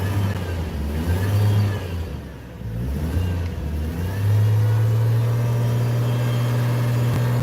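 A Chevrolet Trailblazer engine is revved hard, rising to a loud, sustained high-rpm drone that holds steady, with a brief dip before climbing again; the sound is close and unbroken, with no talking.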